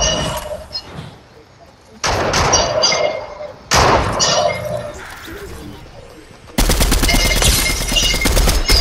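Bursts of rapid Fortnite gunfire crackle in several volleys, ending in a long dense stretch of continuous fire, with voices talking at points.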